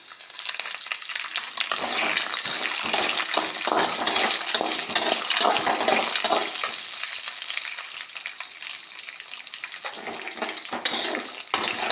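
Green chillies sizzle and crackle in hot oil for lemon rice with asafoetida, a loud, close, continuous frying hiss with brief stirring bursts and a slight dip near the end.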